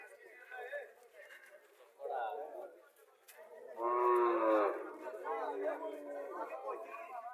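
A local cow at a village cattle market in Comilla gives long, loud lowing moos, with people talking around it.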